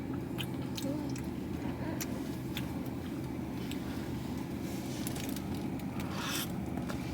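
Someone bites into avocado ice cream with a soft, crunching chew, the bite sounds close and quiet over steady background noise.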